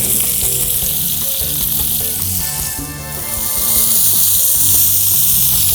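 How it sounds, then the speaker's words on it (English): Cipollini onions hitting a hot pan that already holds veal, sizzling loudly and steadily with a dense frying hiss, briefly easing midway before swelling again, with no voices. "in the same pan right here, I'm gonna add my cipollini onion to start the cooking process"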